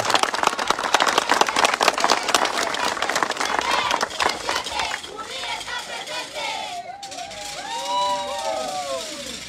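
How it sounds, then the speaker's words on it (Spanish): A crowd applauds a candidate at a campaign launch rally, with dense clapping and cheering for about five seconds before it thins into scattered noise and whistling. "para la cual pido un fuerte aplauso"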